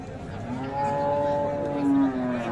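A Sahiwal bull lowing at the Ambari livestock market, one long, close, sustained moo over the low background murmur of the market.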